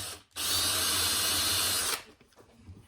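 A small drill bores a little hole in a workpiece clamped in a vise, a steady loud whine lasting about a second and a half before cutting off, with quiet handling noise after.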